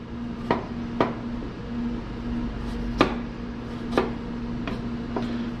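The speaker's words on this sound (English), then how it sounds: "Sometimes it's easier for me just to whack off the bottom, get a nice flat surface, and then use my knife, kind of go around it." A knife on a cutting board trims and peels a chunk of ginger, sharp isolated taps and knocks at uneven intervals over a steady low kitchen hum.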